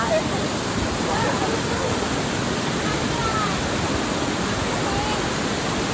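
The Hok Ee Lok waterfall in Saraburi, Thailand roars steadily as a dense, unbroken rush of water, loud and close, with no pauses.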